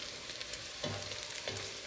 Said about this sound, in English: I want this bacon to get a little bit more toastier